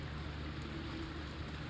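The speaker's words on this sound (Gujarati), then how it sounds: "તો જુઓ તમને આવો મસ્ત મજાનો વરસાદ આવે છે." Winter rain falls steadily in an unseasonal shower, a soft, even hiss of drops on surfaces with no voices, faint and continuous throughout.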